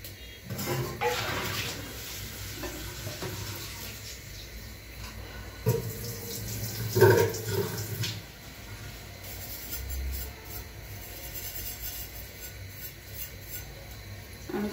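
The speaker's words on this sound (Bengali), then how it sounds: "আমি চামচটা পরিষ্কার করে নিলাম।" Tap water running while a spoon is washed at a kitchen sink, a close splashing stream with a couple of louder bursts midway and clattering handling noises, no talk.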